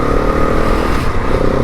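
A 2022 KTM Enduro 690 motorcycle engine running loud and close, a steady deep throbbing drone with a slight rise in pitch partway through.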